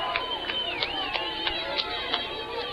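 Football fans at Lyle Harris Stadium cheering during a college game, a distant crowd roar with a steady hubbub, rhythmic cowbell-like clanks ringing out repeatedly through it.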